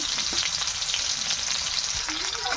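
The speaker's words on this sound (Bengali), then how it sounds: "এখানে কড়াইটা বসে নিয়েছি, তেলটা গরম হয়ে গেছে। এখন পেঁয়াজগুলো দিয়ে দিচ্ছি, পেঁয়াজ তেজপাতা" Onions and bay leaves hit hot oil in a wok, producing a loud, continuous close-up sizzle with faint scraping as they are stirred, and no voices.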